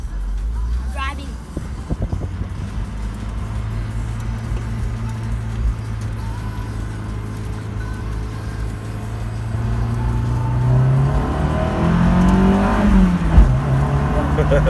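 A Honda S2000 drives through a neighborhood with a continuous low engine drone from inside the car. The engine swells louder toward the end as it picks up speed.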